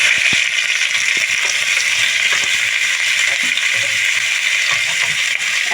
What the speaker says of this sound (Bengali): আলু ভাজার ওই অল্প তেলে আমি দিয়ে দেবো পেঁয়াজ কুচি